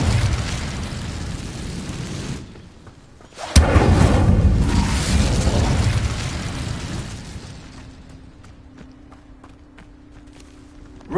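Incendio fire spell cast in the Hogwarts video game, heard as a loud whooshing roar, a brief lull, then a sharp crack and a second fiery burst that swells and fades into a low hum.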